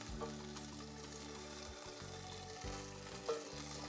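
Tomato paste hits a hot pan for a fisherman's fish soup and sizzles steadily, a close, continuous frying hiss lasting the whole stretch, with a low hum running underneath.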